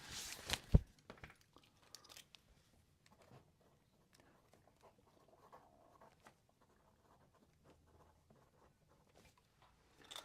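A pen, in a fountain-pen setting, scratches faintly across paper in short, sparse strokes, with a louder paper crinkle at the start and quiet room background.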